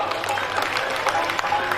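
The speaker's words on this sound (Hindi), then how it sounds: "अगर बात मन की हो बे तो ताली बजाइए" Audience applause at a Bundeli poetry recital, a short dense burst of many hands clapping close by, steady throughout with a murmur of voices underneath.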